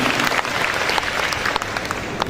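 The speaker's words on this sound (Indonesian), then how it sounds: "Tepuk tangan untuk dua penanya." Steady, full applause from a lecture-hall audience at a university, continuous and loud throughout with no break or voices on top.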